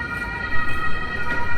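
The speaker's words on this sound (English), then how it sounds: "Many police cars." Police car sirens wail near Alexanderplatz in Berlin, a steady, fairly loud tone that holds throughout over street background noise.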